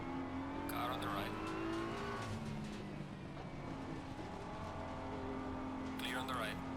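Race cars in Assetto Corsa Competizione roar steadily in the pack, with another car's engine sweeping past around the midpoint and a fresh pass near the end, under a spotter voice calling out positions.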